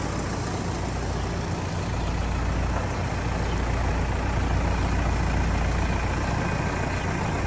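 A Hattat 285S tractor with a still-cold engine creeps along slowly without throttle, giving a steady low diesel rumble with constant broadband noise, close and unvarying, with no talking.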